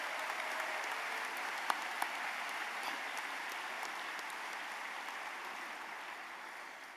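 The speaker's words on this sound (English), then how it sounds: "Please give yourself a round of applause." Distant, faint applause from a large crowd at a closing ceremony, an even wash of clapping with a couple of brief sharper claps, steady throughout.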